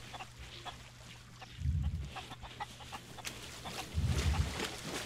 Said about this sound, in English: Where'd you find a chicken?